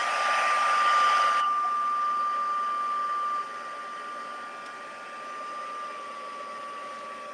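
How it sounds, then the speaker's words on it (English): A handheld heat embossing tool blows hot air in a steady loud whoosh with a faint whine. It drops to a quieter hum partway through, used on a papercraft card. "So come in with our heat tool."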